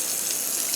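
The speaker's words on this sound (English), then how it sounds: "Let's turn on the water a bit higher." Kitchen sink tap water runs through a carbon filter in a steady, close rushing stream, with no voices.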